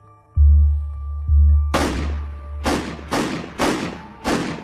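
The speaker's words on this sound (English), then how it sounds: "And then 5 gunshots ring out." Five gunshots ring out in a home during a homicide case, sharp loud cracks in quick succession with short decays, preceded by two low heavy thuds against a quiet hum.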